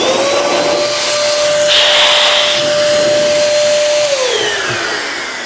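A small Metro Vac Sidekick vacuum runs with a loud, steady whine and rushing airflow close by; the pitch shifts once partway through and then drops slightly toward the end.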